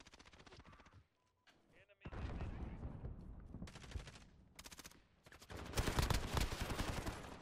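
SMG gunfire in the Modern Warfare video game rattles out in several sustained automatic bursts separated by brief pauses, loud and close, with a final heavy stretch of shots.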